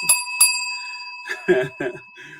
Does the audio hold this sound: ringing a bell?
yes